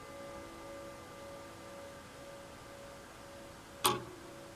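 A mechanical clock that does not chime is set to 11 o'clock. It sits under a faint steady hum, and a single sharp click comes near the end.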